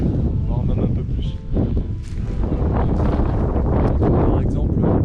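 Wind gusts buffet the microphone outdoors on a tour of the Chernobyl nuclear plant area, a loud steady rumble that continues under a man's speech.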